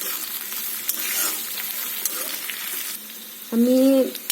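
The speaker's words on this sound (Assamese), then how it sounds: "বেঙেনাখিনি অলপ টাইমৰ কাৰণে ভাজিম।" Eggplant fries in a pan of hot oil with ginger and garlic, giving a steady crackling sizzle with soft stirring scrapes, then a short tonal voice-like sound near the end.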